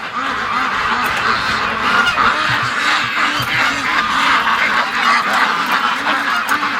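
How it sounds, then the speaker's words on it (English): A flock of ducks quacking and honking nonstop in a windy yard as they are let out for feeding, loud and close, with dense overlapping calls. "Come on, ducks, out you come."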